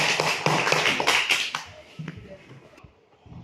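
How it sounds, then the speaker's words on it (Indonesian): Classroom applause for a student group, a burst of quick claps at the start that thins into scattered hand taps and fades out within a few seconds. "tepuk tangan untuk kelompok 3."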